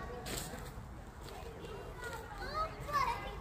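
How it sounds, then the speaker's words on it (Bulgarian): Children play at an ordinary playground, their shouts and chatter rising in scattered bursts at a moderate distance, with a few high squeals near the end and a steady outdoor background. "И това е една обикновена детска площадка."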